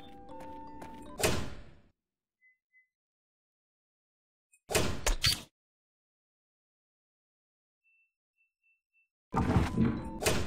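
Doors being moved around in the PS2 game The Nightmare Before Christmas, three short bursts of heavy thudding and sliding with near silence between them.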